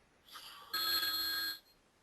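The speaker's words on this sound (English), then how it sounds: "I got that phone call again. Somebody's calling us." A telephone rings for an incoming call in a quiet room, one short electronic ring burst that is clear and moderately loud.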